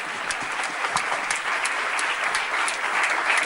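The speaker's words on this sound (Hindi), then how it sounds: "हम सब एक थपड़ी बजा के जोरदार थपड़ी से इनका सबको सम्मान के" A crowd at a school association event in Mithila, Bihar gives steady, dense applause to honour guests. The clapping is close, loud and sustained throughout.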